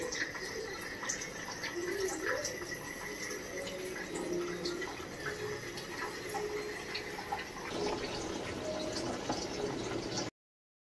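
Water pours steadily from a home water purifier into a container, a continuous close trickle and fill that shifts in tone near the end before stopping.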